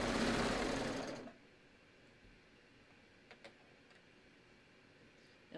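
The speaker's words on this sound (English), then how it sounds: "start serging" A serger sewing machine stitches a knit neckline: a loud, rapid mechanical whirring bursts out at the start, runs for about a second, then stops, leaving near silence with a few faint ticks.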